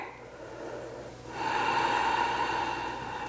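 Breathing during a yoga lizard pose, a soft breath followed by a louder, sustained airy exhale that carries on to the end.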